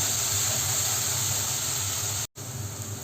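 Green chilies frying in hot oil in a pan for Kerala-style chicken roast, a steady bright sizzle and hiss close up, continuous except for a brief dropout near the end.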